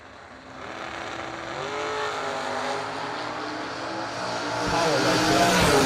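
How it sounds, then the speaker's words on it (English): Drag racing cars launch at an event, one of them a 1990 Ford Mustang, engines building into a loud, rising roar that swells steadily and grows louder toward the end. "Bill Powell right lane, 549 the dial in the 90 Mustang."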